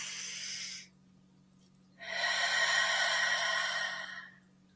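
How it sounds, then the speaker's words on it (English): A slow, deep inhalation during a guided evening prayer, a soft airy hiss of breath close to the microphone, lasting about two seconds after a brief pause, with no talk over it. "One more deep breath in."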